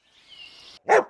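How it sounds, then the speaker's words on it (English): A single sharp dog bark rings out after a thin, high whine, close and loud, with nothing else around it. "dogs,"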